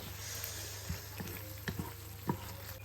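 Chicken hearts sauté in hot oil with sliced red chili sambal, a steady close sizzle broken by several sharp spatula clicks and scrapes against the pan.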